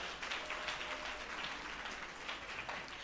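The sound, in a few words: audience round of applause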